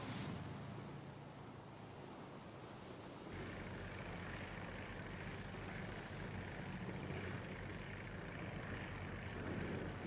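An airplane engine in a video game drones steadily and fairly quietly throughout, with a rising broadband roar partway through as the plane is flown.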